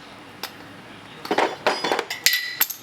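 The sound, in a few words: hammering on car part during LS engine swap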